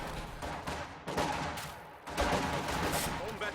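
Soldiers firing from a church window on conscripts in Company of Heroes 2, a steady crackle of small-arms gunfire with sharper bursts, under a busy battle din.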